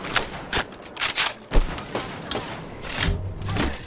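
Bursts of suppressing gunfire in a first-person shooter game, sharp shots and thuds in an irregular volley with a few louder bangs, close and loud.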